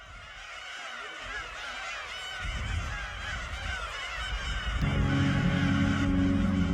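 A colony of black-tailed gulls on Chilsando island, Korea, during breeding season calls in a dense, continuous chorus of overlapping honking cries that grows louder and nearer toward the end.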